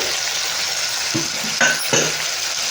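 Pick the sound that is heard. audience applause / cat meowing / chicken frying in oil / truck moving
chicken frying in oil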